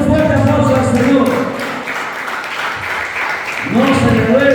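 A church congregation gives a strong round of applause during a sermon, a loud burst of broadband clapping that swells, dips briefly, then returns, with voices and music-like tones underneath.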